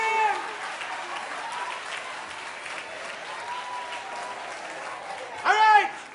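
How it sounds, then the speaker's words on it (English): An audience claps together in a steady, dense burst that runs throughout, with a voice shouting briefly near the end. "Clapping!"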